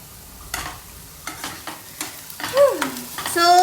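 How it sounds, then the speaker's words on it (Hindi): Onions frying in a pan for a soybean dish, with soft sizzling and several stirring scrapes, then a brief squeaky utensil sweep near the end, close and moderately loud with no talking. "बस कांदा फ्राई हो जाए"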